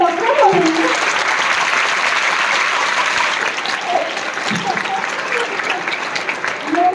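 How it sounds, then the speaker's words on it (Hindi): An audience at a motivational education workshop breaks into steady, dense applause lasting several seconds, with brief voices rising faintly through the clapping now and then. "उसके लिए तुरंत ताली हो जाए।"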